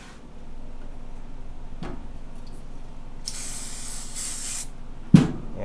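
A steady hiss of silicone spray from an aerosol can during a radiator install on a Chevrolet Chevelle, lasting about a second and a half, with faint handling noises before and a soft knock afterward.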